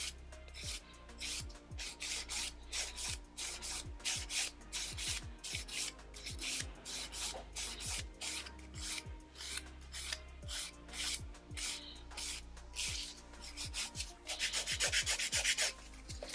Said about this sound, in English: just smooth out the scratches that I just left with the 180 file